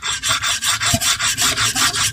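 A Japanese natural sharpening stone is lapped on an Atoma diamond plate, producing about eleven rhythmic gritty rasping strokes back and forth, close and loud, with no talking.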